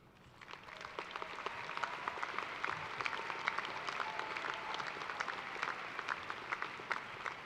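A large crowd applauds honored students at a University of Toledo fall commencement ceremony, a broad, even roar of clapping that builds quickly and holds steady in a big, reverberant hall.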